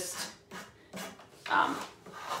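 Sandpaper rubbed by hand across painted wooden furniture to distress it, four close, separate scratchy strokes, the fourth loudest.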